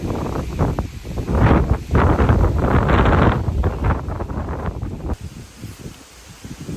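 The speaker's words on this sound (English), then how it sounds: "Wind is crazy right now." Strong wind gusts buffet the microphone in loud, rushing bursts that rise and fall, then ease into a quieter blustery rustle.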